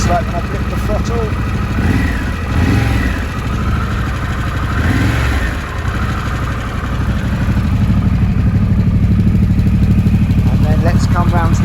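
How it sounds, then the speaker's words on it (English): A Harley-Davidson Pan America 1250 Special motorcycle engine idles and then revs sharply a few times, the exhaust rising and falling loudly nearby, with a voice speaking briefly over it. "See what it's like when I flip the throttle."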